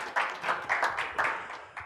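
An audience claps in a brief, sparse burst, with a handful of distinct bright claps at an uneven rhythm that fade quickly, fairly quiet and heard alone.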